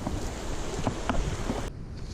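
River water rushing steadily at Jab Valley near the Khanpur waterfall, a continuous broadband wash with wind buffeting the microphone, close and fairly loud, with no voices.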